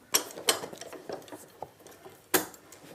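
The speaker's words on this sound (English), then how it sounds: "just pulling that in on the vise" Wooden piece being drawn into a woodworking vise, a few sharp close wooden clacks and knocks with softer creaks and taps in between, sparse and irregular.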